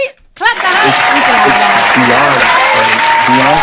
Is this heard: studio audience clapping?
yes